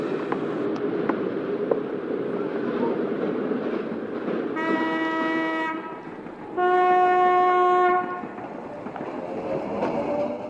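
A train rumbling steadily along its rails, with a continuous low rolling roar and two long blasts of a harmonic horn, the second louder and closer, sounding over the running noise.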